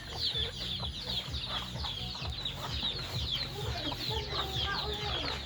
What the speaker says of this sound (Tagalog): daghan kay siya mga manok diri